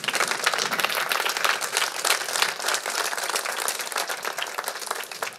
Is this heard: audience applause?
yes